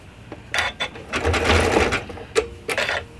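A sewing machine fitted with an overlocking foot stitches a bandana baby bib in several short bursts and one longer run, with brief pauses and clicks between them, close and clear, with no talk.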